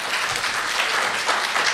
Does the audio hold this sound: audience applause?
yes